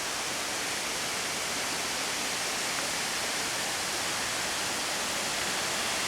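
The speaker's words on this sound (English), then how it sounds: "there it is. There it is. Madison Creek Falls." Madison Creek Falls, a waterfall in a fern grotto among evergreen trees at Olympic National Park, pours with a steady, dense broadband rush that holds constant throughout, with no voices.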